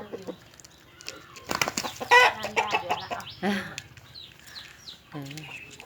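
Chickens fighting squawk and cluck in agitated bursts with a brief flurry of wing flapping, while people talk nearby.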